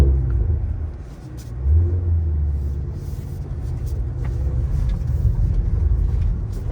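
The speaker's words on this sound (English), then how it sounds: "and then this is the rev match" Cadillac CT5-V Blackwing with a 6-speed manual gearbox rumbles close by as the engine blips and rises during a rev-matched downshift, a deep steady drone swelling briefly before settling.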